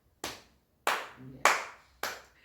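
Audience at a church and family talk claps in four separate sharp, reverberant bursts, each swelling quickly and fading before the next, with no voices over them.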